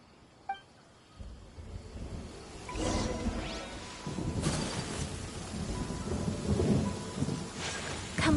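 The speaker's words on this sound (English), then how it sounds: "Let us find shelter from the rain" Heavy rain pours steadily in the video game Genshin Impact, with deep rumbling thunder rolling in and swelling through the storm, alone without voices.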